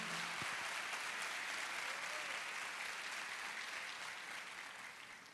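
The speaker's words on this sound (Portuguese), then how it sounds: "Pode aplaudir." A church congregation breaks into loud, sustained applause that fills the room, then slowly fades toward the end.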